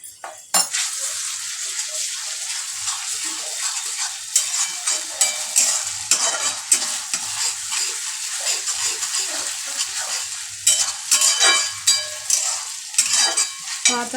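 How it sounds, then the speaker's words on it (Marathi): Ginger garlic paste frying with tomato in a pan, stirred with repeated scraping strokes over a steady sizzle, close and moderately loud with no talking. "आता अद्रक लसूणची पेस्ट आपण चांगली परतून घेतलेली आहे."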